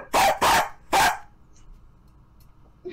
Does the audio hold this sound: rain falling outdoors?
no